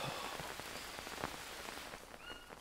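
Rain patters steadily on surfaces in the survival video game Green Hell, a faint, even hiss with scattered drop taps throughout.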